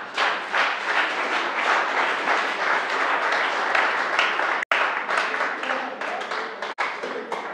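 A church congregation applauds, with dense, sustained clapping from many hands that holds loud and steady throughout, broken by two brief dropouts.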